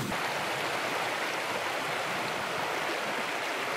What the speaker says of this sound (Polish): Tutaj płynie rzeka, jak widzicie.